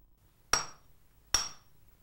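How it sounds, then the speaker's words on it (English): A swordsmith hammers a plain iron rod at a charcoal-fired forge, two sharp metallic strikes about a second apart, each ringing briefly before fading, with no talk. "First, he hammers a plain iron rod down to a sharp point."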